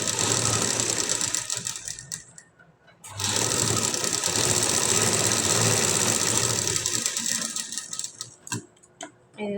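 A sewing machine runs with a single foot attached, stitching a work blouse in steady fast rattling bursts, stopping briefly once before resuming, close and loud with no talk.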